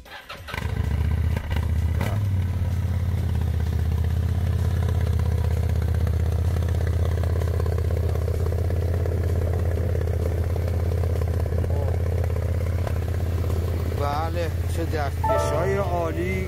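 An old motorcycle engine idles loudly and steadily with a deep, lumpy throb and mechanical clatter, close by and continuous throughout.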